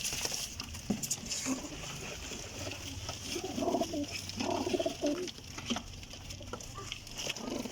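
Rampuri pigeons coo softly in repeated low, throaty phrases amid a cluster of other birds, with scattered clucks and rustling around them.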